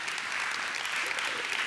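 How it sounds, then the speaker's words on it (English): Audience applause at a worship service: dense, even clapping from a large crowd, sustained and fairly loud throughout, with no speech over it. "I'm going to just pause and see if anybody wants to applaud for that."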